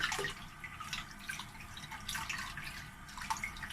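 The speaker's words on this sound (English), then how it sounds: "And now we can give them a good rinse." Soapy hands are rinsed under a running tap, with water spattering and splashing in uneven bursts. The flow sounds close and moderately quiet.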